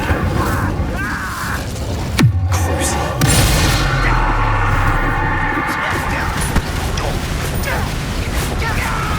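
The Incendio fire spell is cast in Hogwarts Legacy, a sudden whooshing boom followed by a burst of fiery, crackling effects over a dense layer of game sound.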